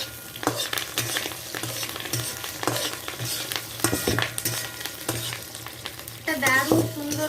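Curry leaves frying in tempering oil sizzle steadily while a utensil stirs and scrapes the pan in irregular close strokes, with a brief louder clatter near the end.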